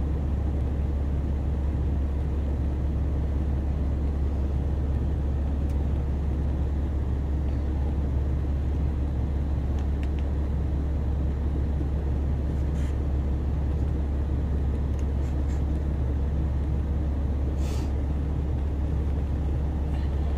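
Inside a moving car, road noise forms a constant low rumble and drone. It holds steady for the whole stretch, with only faint scattered clicks and no speech.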